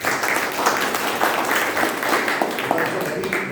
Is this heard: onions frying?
no